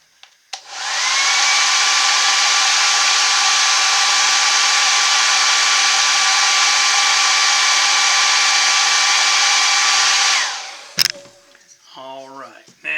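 A hair dryer blows in a steady, loud whir for about ten seconds, used on a painted wood carving of a bear, then cuts off, leaving faint handling sounds.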